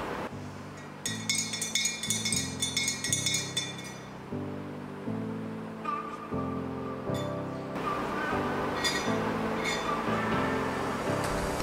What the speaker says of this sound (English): You may need to stir it a few times while drinking, as the spices may settle a little on the bottom of the glass.